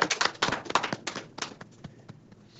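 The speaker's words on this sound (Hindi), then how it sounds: "एक बार जोरदार सर के लिए ताली बनाएंगे इस चीज के लिए आप सभी लोग" An audience bursts into loud clapping for a guest, a dense round of applause that starts strong and thins out over a couple of seconds.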